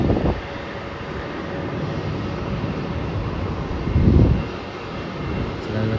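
A Qantas Airbus A330 airliner arriving from Singapore on approach to land at Melbourne Airport, its jet engines giving a steady, broad roar at moderate distance, with a brief louder swell in the middle.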